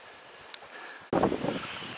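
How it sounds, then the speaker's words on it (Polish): Strong gusts hit the microphone on a mountain trail toward Klimczok peak near Szczyrk: a faint breezy hiss gives way to a sudden loud, buffeting rumble of wind that stays rough and close. "Strasznie wieje"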